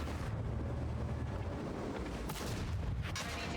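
Heavy tank cannon fire and shell impacts in World of Tanks, with an Obj 283 and Lorraine 50t in play, as a dense rumbling barrage with a couple of sharper cracks near the end.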